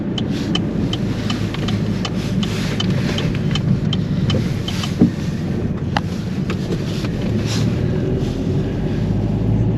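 A vehicle drives along a road in light drizzling rain, its engine and tire rumble steady and close throughout, with small rattles and knocks from the chassis scattered on top.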